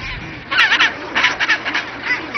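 Penguins calling on an Antarctic shore, near cliffs where they nest: a series of short, nasal, honking cries in irregular bursts, fairly close and loud, with no other sound between them.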